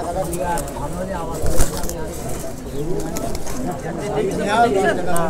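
Racer pigeons at a Bangladeshi pigeon market coo and flutter close by, with a brief flap of wings, while people talk steadily over them.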